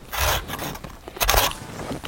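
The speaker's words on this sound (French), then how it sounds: "Il y a 3 coups de scie à mettre." A hand saw cutting a small notch in a tree branch, with two or three rough rasping strokes, close and fairly loud, and short pauses between them, no voices.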